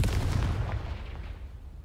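A Confringo fire spell in Hogwarts Legacy bursts as a heavy booming blast, its low rumble dense at the start and slowly trailing off over about two seconds with no talk.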